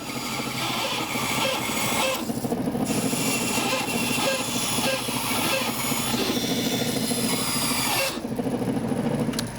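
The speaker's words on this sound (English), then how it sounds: "Off to the bandsaw." A bandsaw cuts a circle from a piece of wood for a bowl with a lid, roaring with a continuous dense whine and rasp. The blade noise shifts in texture as the cut goes on, briefly easing around two and eight seconds, loud and close.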